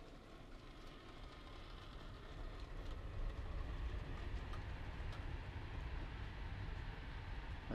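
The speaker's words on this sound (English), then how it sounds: "As you can hear in the background, the West Coast main line's pretty darn busy today." Trains pass on the busy West Coast main line at a distance, a low continuous rumble with faint rail clatter and occasional clicks that builds slightly and holds steady throughout.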